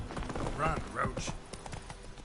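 Geralt's horse Roach galloping in The Witcher 3 video game, rapid hoofbeats clopping under a voice.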